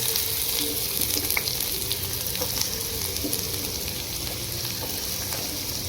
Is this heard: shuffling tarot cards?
no